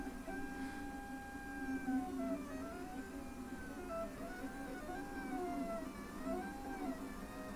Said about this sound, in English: Right, it's off, so it should now be printing.